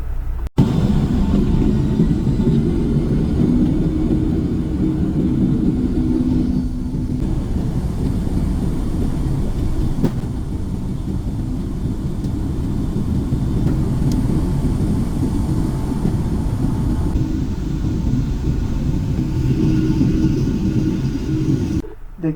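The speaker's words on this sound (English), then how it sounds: "This aircraft is a 757-200 made in May of 1990. Let's go for takeoff." A 34-year-old Boeing 757-200 airliner, built in May 1990, roars through its takeoff run, a loud, steady low rumble of engines and cabin noise heard from inside and held for the whole stretch without any speech.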